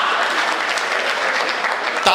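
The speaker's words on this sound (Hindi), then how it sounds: "तालियां जल्दी बजाती," Steady audience applause at a Hindi comedy poetry gathering (kavi sammelan), dense clapping filling the whole stretch at an even, moderately loud level, ending in a brief sharper burst.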